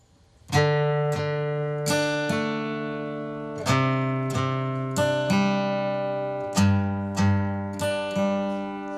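Acoustic guitar picks a repeating chord pattern from a song, each strum ringing out clearly and fading before the next, played twice at an easy pace.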